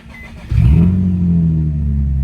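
A Nissan car's engine surges from a quiet background into a loud, low, steady rumble as it pulls away and drives on.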